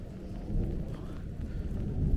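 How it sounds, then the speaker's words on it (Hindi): Rain falling at Prashar Lake in the mountains of Mandi, Himachal Pradesh, a steady low wash of rainfall with gusty wind rumble throughout, quiet and with no talk. "बारिश पड़ रही है"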